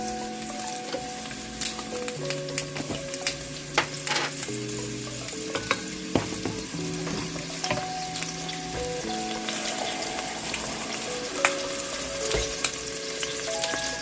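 Onion and garlic sautéing in a pan for Italian wedding soup, a steady sizzle with occasional stirring scrapes and clicks, under sustained background music.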